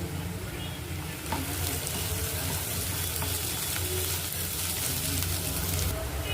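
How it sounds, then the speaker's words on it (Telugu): Ginger garlic paste fries in a pan for a curry, making a dense, continuous sizzle with light stirring sounds throughout. "అల్లం వెల్లుల్లి పేస్ట్ మగ్గింది"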